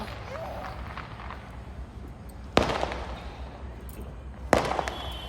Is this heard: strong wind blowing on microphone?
no